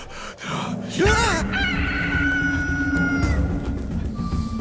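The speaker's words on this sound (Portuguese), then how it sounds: "o galo cantou pela segunda vez" A rooster crows in a drawn-out, wavering call, loud and near, sung out twice within a Bible story scene, with other voices and background sound around it.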